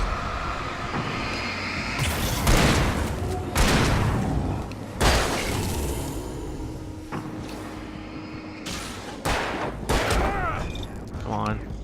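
Gunshots ring out in the video game Alan Wake, several heavy booming blasts spaced a second or two apart over a rumbling background, with a voice talking between them.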